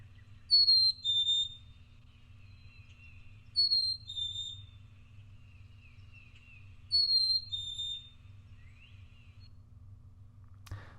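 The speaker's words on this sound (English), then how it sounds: "So that was a chickadee too" A chickadee sings a clear, high whistled phrase three times, each a pair of descending pure notes separated by a few seconds of quiet with a low steady hum underneath.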